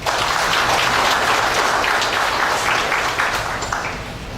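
A large audience claps continuously at the 2018 graduation ceremony of Sekolah Tinggi Agama Kristen Abdi Wacana Pontianak, a dense, loud wash of applause that tapers slightly toward the end.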